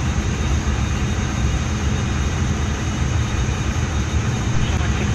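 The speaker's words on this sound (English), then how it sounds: "Engage in starter engine 1." A Dash 8 turboprop's engine 1 spooling up in a flight simulator, a steady loud broadband whine and roar with a constant high tone running throughout.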